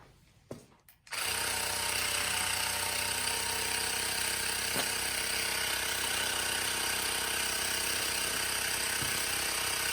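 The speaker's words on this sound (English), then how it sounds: "this compressor is not that loud. And it's pumping up very quickly." A Nexpeak small portable tire inflator compressor pumping up a bike tire runs loud and steady after a few brief clicks at the start, a continuous buzzing drone with no talking.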